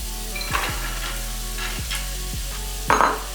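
Red onion and carrots fry in a pan with a steady sizzle, broken by several scraping stirs and a louder clatter near the end; no one speaks.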